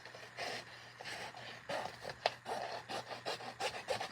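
Decorated paper for a junk journal cover being trimmed, a run of rough rasping cuts and rubbing strokes in close succession, fairly quiet with no talking.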